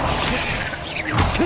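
A levitation spell cast in Hogwarts Legacy gives a short magical whoosh with a swirling rising shimmer and a light thump near the end, loud and brief over game ambience.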